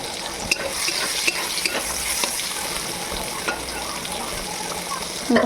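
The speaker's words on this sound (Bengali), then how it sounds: "তো দেখো এরকম লাল লাল করে ভেজে নিতে হবে" Soybean chunks fry to a reddish brown in a pan, giving a constant close sizzle with intermittent taps and scrapes of a spatula turning them.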